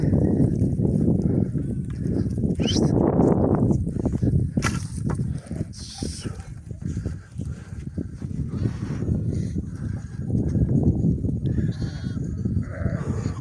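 Sheep and young lambs bleat loudly and repeatedly, several overlapping calls close by in a farm setting, with continuous shuffling and rustling between the cries and no speech.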